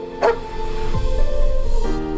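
A dog gives a single short bark or yip near the start, followed by a softer whine or whimper, over steady wind and ambient noise in a movie trailer scene.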